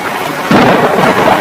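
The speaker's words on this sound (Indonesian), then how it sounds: "gumpalan awan hitam tersebut berubah menjadi hujan badai dan angin topan" Thunderstorm with heavy rain and strong wind, a low rumbling roar that swells suddenly halfway through and stays loud and dense to the end, with no voices.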